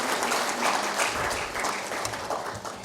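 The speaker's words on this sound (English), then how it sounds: "I'll also request you to give a clapping ovation to Mr. K.B. Kachru" An audience at a hotel association HR summit inauguration in India applauds for the association's president, a dense, sustained burst of clapping from a crowd that stays loud throughout.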